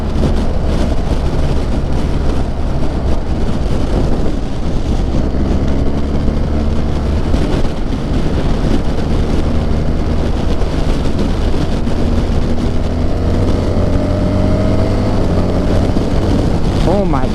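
A BMW R1300GS motorcycle engine drones loudly and continuously during a ride, its pitch climbing under acceleration over steady wind rush, with no voices audible.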